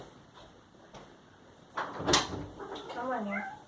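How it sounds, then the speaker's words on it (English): A cat at an indoor door, with a sliding or scraping rattle of the door followed by a brief, close meow-like cry, heard alone at moderate volume. "And then we got a cat at the door again."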